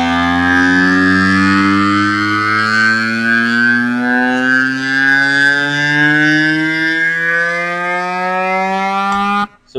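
A harmonic-rich synth tone made in FL Studio sweeps slowly upward under filter automation for nearly ten seconds, loud and steady, then cuts off abruptly.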